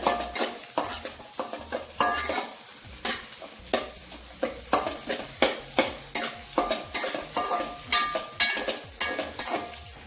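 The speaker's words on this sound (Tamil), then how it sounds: "முட்டையை ஆட் பண்ணிவிட்டு இதே மாதிரி நல்லா மிக்ஸ் பண்ணுங்கள்" Egg being stirred into chicken kothu parotta on a hot pan, with rapid rhythmic metal scrapes and clanks of the spatula over a constant sizzle, close and busy.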